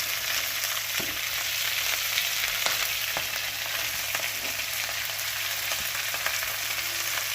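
Cabbage fries in a pan with green chillies and curry leaves, giving a continuous, loud sizzle with occasional light stirring clicks and no talk.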